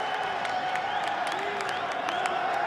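An esports crowd at a FIFAe World Cup event cheers and applauds as a player rises from his seat, heard as a steady, fairly distant wash of applause and whoops with some voices mixed in.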